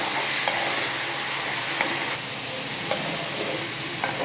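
Taro curry with salt, turmeric, coriander and cumin powder sizzles loudly and continuously in a pan after water is added, with faint occasional stirring scrapes.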